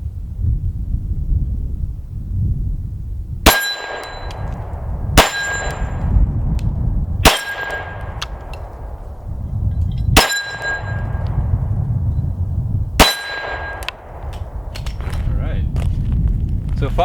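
Five gunshots strike steel targets at a range, each one a sharp metallic clang that rings out against a steady rumbling background. The hits are spaced a couple of seconds apart and all five connect.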